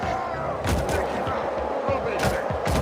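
Rapid bursts of gunfire from the player's weapon in a video game, loud and repeated over dense game noise, with a voice speaking at times.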